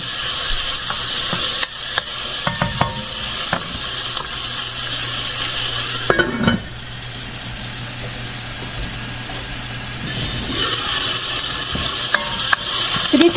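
Beef fries without oil in a pan as it is stirred again and again, a continuous loud sizzle broken by scraping and clattering strokes, with a brief quieter lull midway.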